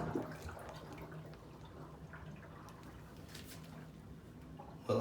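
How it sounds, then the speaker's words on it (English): Water drains steadily down a bathtub drain after a clog was cleared with Drano, a quiet continuous liquid gurgle and trickle, with faint drips, running alone at low level for several seconds. "Well, I hear water draining."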